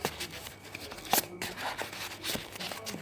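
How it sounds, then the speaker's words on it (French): Paper strips folded accordion-style for a fake book, close crisp rustling and crackling of paper with a few sharp creases pressed in, fairly quiet. "Et maintenant, il faut plier comme un accordéon."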